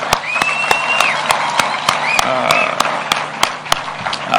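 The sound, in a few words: audience applauding for the girls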